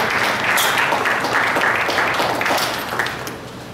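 Audience at a talk applauding, a dense wash of clapping that holds steady and then fades out toward the end.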